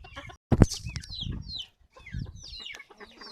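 Pekin bantam chickens in a henhouse cluck and squawk in short, overlapping bursts, with a louder sharp call near the start and no one speaking.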